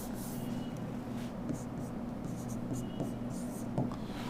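Chalk or marker writing numbers on a board during a chemistry lecture on reaction rates: soft, scratchy strokes in short bursts, mostly faint, with a teacher speaking over them.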